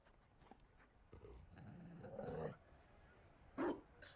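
A Mabari war dog in Dragon Age: Inquisition's Trespasser content gives a low growl and a short, sharp bark, fairly quiet against a muted background with brief pauses between.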